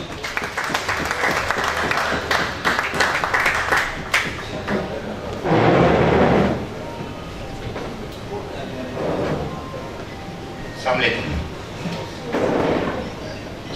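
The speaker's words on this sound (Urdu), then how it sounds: "آپ سب کی بھرپور تالیوں میں" An audience applauds at an Urdu poetry mushaira, several bursts of clapping rising and falling between stretches of a host's amplified speech in a large hall.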